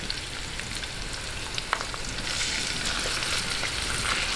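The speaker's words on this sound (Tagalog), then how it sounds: "bago natin gisahin yung ating pork, yung ating liempo" Pork belly liempo sautéing with garlic in a pan for Filipino sinigang sa bayabas gives a steady, close, dense sizzle that brightens and grows slightly louder midway, with no talking.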